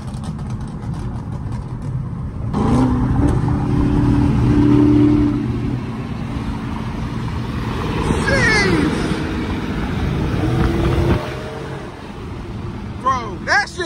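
A Dodge Hellcat or Scat Pack V8 revs hard at night in traffic, a loud, steady engine roar that swells and falls, with a few sharp exhaust pops near the end and voices over it.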